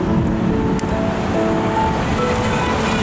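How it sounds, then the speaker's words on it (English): Strong wind roars against the microphone outdoors near tower cranes, a loud, continuous buffeting rush with no pauses. "that wind, wow"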